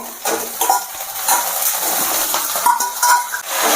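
A spatula scrapes and clinks in a wok as boiled flat beans get stirred together with fried onion, garlic and green and dried chillies, giving close, steady scraping over a soft sizzle.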